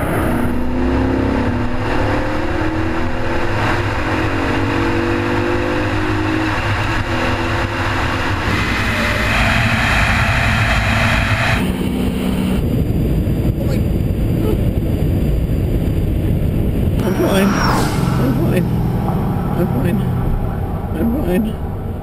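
Ford Mustang driven around a high-speed track, a loud engine roar rising and shifting as the car accelerates, with road and wind noise and people talking inside the car.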